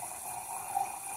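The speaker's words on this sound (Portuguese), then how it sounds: "Vou colocar aqui, ó, um pouquinho de água filtrada." Filtered water is poured into a container for avocado soup, a steady, soft trickle with a faint ringing tone, close and quiet throughout.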